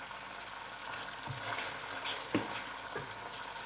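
Crushed chili and black pepper sizzle steadily in a hot pan with a few soft stirring scrapes, a continuous close crackle with no talking.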